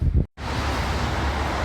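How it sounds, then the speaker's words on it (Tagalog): Strong wind and heavy rain on a stormy Christmas day make a dense, constant roaring wash. A brief muffled gust comes first, then a near-total dropout, then steady loud rushing noise with no voices. "Sobrang ulan saka ang lakas talaga ng hangin."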